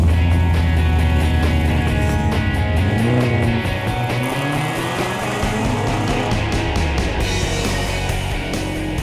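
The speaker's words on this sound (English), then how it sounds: "Just warming this Mustang up." A Ford Mustang engine idles and revs while warming up, close and loud, with a continuous rumbling drone that shifts pitch as the throttle rises and falls.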